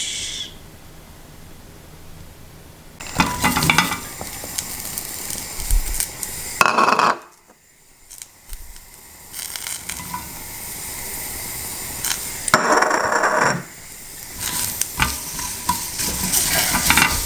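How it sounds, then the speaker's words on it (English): Red paprika, red onion and hot chili peppers sizzle in a grill pan. Bursts of loud frying hiss come and go, with short quiet gaps and faint clatter between them. "I'm gonna put some vegetables in the grill pan."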